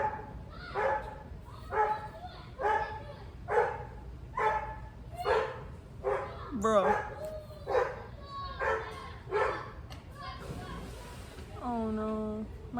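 Neighbour's dogs bark in a steady series of sharp, evenly spaced woofs at moderate distance, with a whimpering yip midway, while a person speaks briefly.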